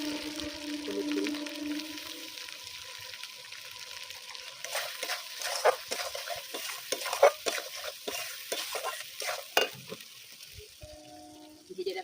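Spices, salt, turmeric, mustard paste and fried potatoes stirred and fried in oil for a fish curry, a soft sizzle under repeated scraping and clattering spatula strokes against the pan, close and moderately quiet.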